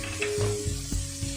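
Cabbage, carrot, beans, capsicum and spring onion sautéing in a pan for chicken fried rice, a short steady hiss of sizzling with a few soft stirring knocks, close, with a low hum beneath.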